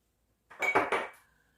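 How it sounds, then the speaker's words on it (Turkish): Dishes are gathered up at a kitchen sink for washing, giving a brief clatter of plates and cutlery knocking together, close by and with no talk. "Geldi bulaşıkları toparladı, yıkadı."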